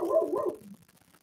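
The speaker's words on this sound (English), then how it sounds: "I don't know if you heard that, but that's my lovely dog." A dog gives a couple of sharp barks that trail off into soft whimpering, fairly close and on its own without any speech.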